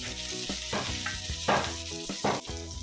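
Garlic hits hot oil in a pan and sizzles in a dense, crackling hiss with a few brighter bursts, heard close up alongside background music.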